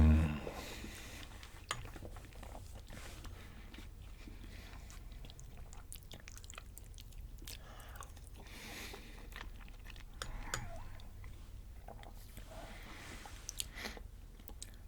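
Close chewing and soft crunching while someone eats lentil and sausage stew, with quiet irregular bites and mouth sounds throughout a calm, low-level room.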